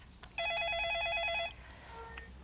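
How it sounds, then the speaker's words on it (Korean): A telephone rings for an incoming call with a single electronic warbling trill lasting about a second, bright and clear above a low background hum, then fading into quiet room noise. "전화 받겠습니다."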